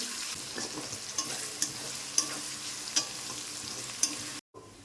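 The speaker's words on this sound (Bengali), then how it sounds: "আস্তে আস্তে ভালো করে ভেজে নিতে হবে" Chopped onions fry in oil with cumin, a quiet, even sizzle punctuated by regular scraping stirs and light taps of a spatula against the pan, close up, briefly cutting out near the end.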